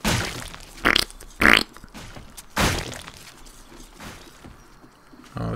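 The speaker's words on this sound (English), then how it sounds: "It's always the farting noises." Farting noises in the survival game 7 Days to Die, a few short loud bursts spaced irregularly over quiet background rumble.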